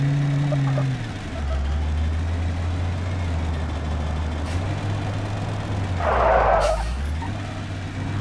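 A heavy-duty truck in the BeamNG driving game idles with a low engine drone, then a sharp burst of air brake hiss stands out near the end.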